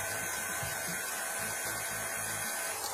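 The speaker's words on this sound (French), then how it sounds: "je ralentis mon batteur et je vais verser tout mon sucre d'un coup" An electric mixer at reduced speed whips Italian meringue for macarons with a steady, buzzing whir. The motor drones continuously and close, with a slight pulsing texture underneath.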